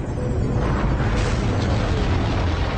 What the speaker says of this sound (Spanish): La ambición humana se embarcó a bordo de los cohetes más potentes jamás construidos.